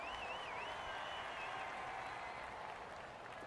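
Stadium crowd in Madden NFL 19 roaring and cheering steadily as a big third down approaches, a dense, sustained wash of noise with no break and no speech over it.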